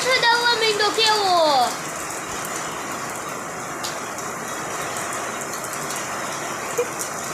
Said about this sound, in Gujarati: મિત્રો આમ તો વરસાદ આવવા માંડ્યો કેવો